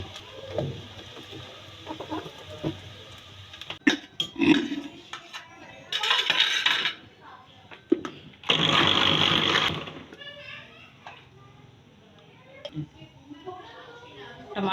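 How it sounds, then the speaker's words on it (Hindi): A kitchen blender whirs through tomatoes, onions and green chilies in two short bursts of roughly a second each, with a voice talking and clattering kitchen sounds between the runs. "टमाटर और प्याज हरी मिर्चें हमारी तीनों चीज़ें ब्लेंड हो गई हैं।"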